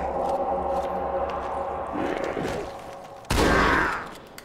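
Halo 2 gameplay with a steady background hum of engines and distant gunfire, broken near the end by one sudden loud shotgun blast that fades over about a second.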